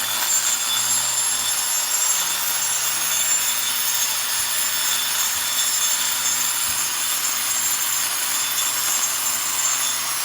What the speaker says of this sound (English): Love a woman that can use a hand grinder.